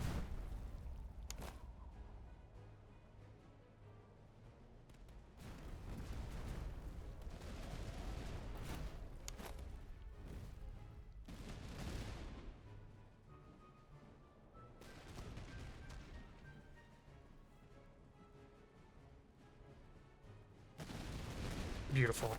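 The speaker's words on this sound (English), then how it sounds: "We might be able to get off 2 shots." Musket volleys crackle and boom across a Master of Command battlefield, several dense bursts of gunfire rolling through the clip over a steady din of combat, with a loud final volley at the end.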